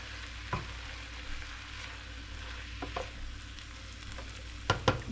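Runza filling being stirred in a hot pan, a faint, even sizzle with occasional scraping knocks of the utensil and a couple of louder clanks near the end, no voices.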